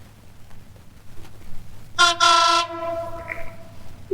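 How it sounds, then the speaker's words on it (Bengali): A train passes along a railway line, sounding a loud, clear horn for about half a second, with a softer second note after a short break over low rumble. "আর ওই যে ট্রেন, দেখছো দেখছো?"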